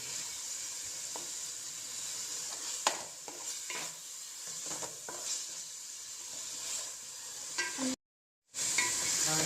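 Bottle gourd curry with turmeric stirred in a pan, a soft steady sizzle with scraping strokes of the spoon at irregular intervals, close and fairly quiet, with no talking.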